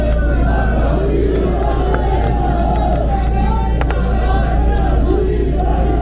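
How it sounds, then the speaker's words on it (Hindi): Large crowd at a political thanksgiving rally in Himachal Pradesh, held with the state's chief minister, keeps up a dense, loud roar of applause and cheering that runs steadily through the clip. "श्रीमती प्रतिभा सिंह जी का एक बार तालियों से अभिनंदन करते हुए निवेदन"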